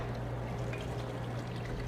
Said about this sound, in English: you're gonna pour all of this wonderful, flavorful liquid right into your pot